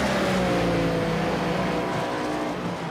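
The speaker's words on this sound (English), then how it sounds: "It almost sounds like Carroll is not completely off throttle" NASCAR Next Gen race car engine in the iRacing game at Phoenix Raceway, a loud, continuous engine drone holding near-steady revs, easing slightly toward the end, alone without talk.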